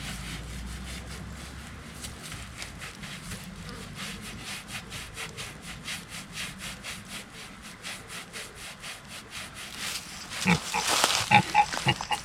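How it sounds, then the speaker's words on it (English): A breeding sow in a New Forest woodland rubs herself against a tree, giving a steady rhythmic rasping scrape repeated many times, close and fairly loud, growing stronger near the end with a few soft grunts. "it's a lovely sight seeing this pig having a lovely scratch"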